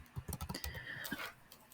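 Short burst of quiet computer keyboard typing: a quick run of about eight key clicks followed by one more tap, close and faint.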